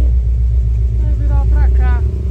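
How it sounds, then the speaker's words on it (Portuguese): A Ford F100 with a V8 engine runs with a deep, continuous low rumble that sits under people talking close by throughout. "pra falar esse barulho de motor, esse aqui tá redondinho"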